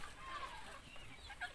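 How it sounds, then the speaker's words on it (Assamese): Local chickens on a small low-cost poultry farm, inside a net-fenced outdoor yard, cluck faintly and intermittently, quiet and somewhat distant, with no talk over them. "এয়া আপোনালোকে দেখিবলৈ পাইছে পিয়ৰ লোকেল মুৰ্গী"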